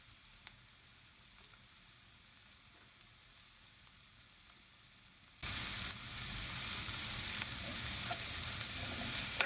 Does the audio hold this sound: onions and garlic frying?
yes